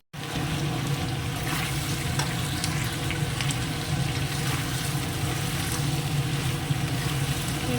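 Onions and chopped vegetables frying in a pan make a loud, continuous sizzle and crackle, close up and unbroken for the whole stretch, with faint stirring beneath.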